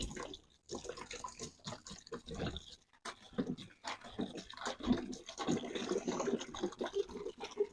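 Distilled water pours from a 3-litre can into a container, an uneven splashing trickle with short pauses, close by and fairly faint.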